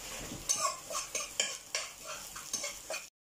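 Pancit canton ingredients being sautéed in a pan, with a run of close scraping stirs and utensil clatter against the pan in short bursts over a light sizzle.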